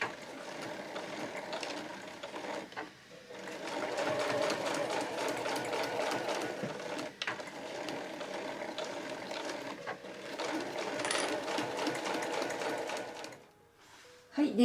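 A home sewing machine stitches heavy canvas on a tote bag's overlapping handles, running in steady mechanical bursts with short pauses for backstitching, close and clear, and falling quiet near the end.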